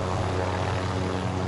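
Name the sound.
helicopter in Call of Duty video game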